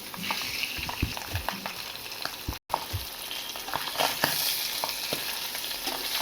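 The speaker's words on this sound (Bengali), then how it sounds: "একটু হালকা ভেজে নেবো মাছগুলো।" Fish frying in hot oil in a wok, a continuous loud sizzle with scattered crackles and pops, briefly cut off for a moment partway through.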